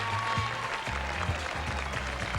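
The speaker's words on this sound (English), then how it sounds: "a round of applause for the sponsors" Audience applause for the sponsors at the Miss World Australia 2003 pageant, steady clapping under a low repeating musical bass line, moderately faint.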